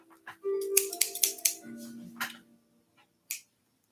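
Scissors snipping through fabric from a duvet indoors, a quick run of several crisp close cuts followed by a pause and one final snip, with no talking.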